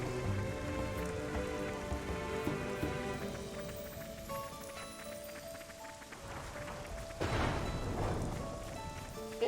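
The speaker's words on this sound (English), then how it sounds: "It's raining." Steady rain falling in the video game Xenoblade Chronicles 3, a continuous wash of patter under game music, with a louder burst of splashing near the end.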